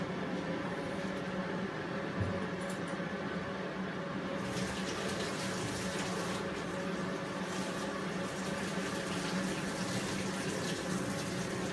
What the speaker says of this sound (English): I'm just gonna flush it with some tap water right now to begin with